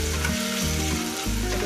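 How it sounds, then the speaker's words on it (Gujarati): Black-eyed pea curry with spices sizzles and fries steadily in hot oil, a continuous close crackle with a low stove hum throughout and no voices. "બધા મસાલા એડ કર્યા છે એટલે તેલમાં ચડવા દઈશું થોડીક વાર"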